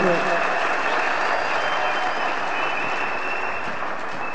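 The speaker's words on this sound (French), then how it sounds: "Let's give the Lord a hand for that." A church congregation at a consecration conference service applauds steadily and evenly, a dense wash of hands clapping that carries on without a break.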